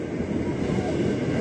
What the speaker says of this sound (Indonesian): Nah ini dia datang lagi KRL, pulang Dipo lagi.